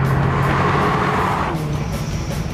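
A 1980s Ford RS performance car accelerating hard on a test track, its engine roaring loudly and steadily close by, with the pitch shifting partway through, and no voices.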